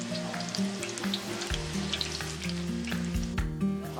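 Food frying in hot oil at a market, a loud continuous sizzle and crackle close by, with clattering and background bustle.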